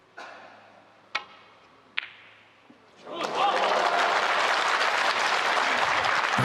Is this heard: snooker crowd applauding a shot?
yes